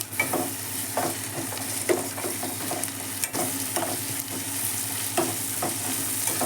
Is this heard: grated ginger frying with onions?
yes